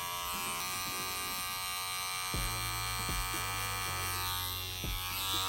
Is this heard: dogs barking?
no